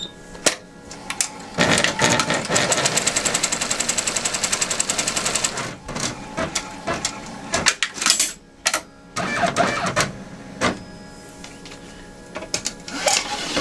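A sewing machine stitches a seam on a crazy quilt block, running in fast rattling bursts with short pauses between runs, close and fairly loud.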